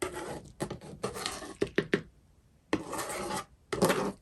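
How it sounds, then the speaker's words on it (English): Acrylic fluid-art paint is scraped across a surface into one spot, heard as several close, rough rubbing strokes in short bursts separated by quiet gaps. "Now let's scrape the rest of this kind of over to one spot."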